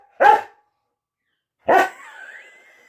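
A dog gives two separate barks, close and loud, the second trailing into a short whine, with silence around them.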